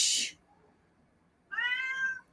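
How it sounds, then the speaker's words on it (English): A noisy house cat meows loudly twice, a brief sharp cry followed after a pause of silence by a longer, clear, tonal meow, close to the listener with no talk. "I got a noisy ass cat, and I'm sorry for all y'all have to hear her"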